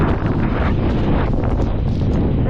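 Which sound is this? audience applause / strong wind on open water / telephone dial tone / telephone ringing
strong wind on open water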